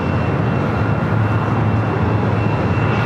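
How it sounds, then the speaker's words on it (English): Air New Zealand Boeing 777 being pushed back by tug from the Tom Bradley gates at LAX, a steady, loud low-pitched engine and tug drone with a faint high whine, unbroken and without talk. "So it's being pushed back from the north side of the gates of Tom Bradley."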